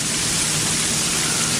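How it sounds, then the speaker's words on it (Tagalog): Heavy rain pours down in a dense, steady hiss that stays loud and even throughout, with no voices and no breaks. "Lakas ng ulan."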